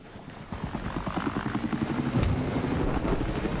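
Helicopter in the video game Battlefield 4, a steady rotor chop with regular thumping pulses and engine whine, fairly close and loud throughout, with no talking.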